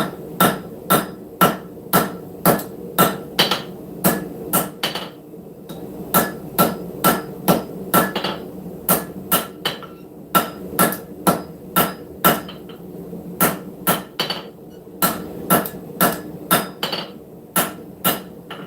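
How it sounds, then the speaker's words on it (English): Steady hammer blows forging the tip of a steel camp knife blade, loud close ringing strikes in regular bursts of several quick hits separated by short pauses, with no talking. "Hammer in behind the edge."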